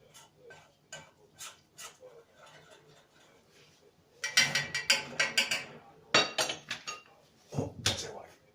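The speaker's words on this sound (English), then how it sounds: "So now you cook the flour." A spoon stirs flour cooking in a pan, with soft scraping taps that grow into louder clattering bursts of metal on metal at close range.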